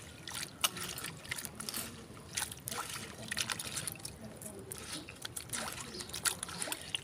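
Water sloshing and trickling as a food ingredient is washed with a little salt in a vessel, soft continuous splashing close by, with a voice talking faintly over it.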